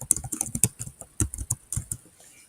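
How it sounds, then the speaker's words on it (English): Quick run of keystrokes on a computer keyboard as a search term is typed, close and crisp clicks in an uneven rhythm with no talking. "So we'll type periodic table"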